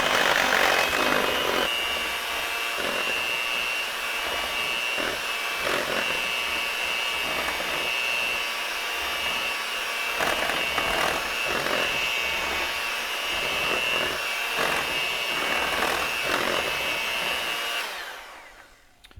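Keto pumpkin pie filling being mixed: a steady, close whirring drone runs unbroken for about eighteen seconds, then cuts off at the very end.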